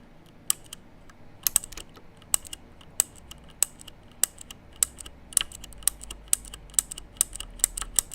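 Typing on a CM Storm Quick Fire Rapid mechanical keyboard with green switches, held close to a microphone: crisp, sharp clicky keystrokes in an irregular, unhurried rhythm, heard alone.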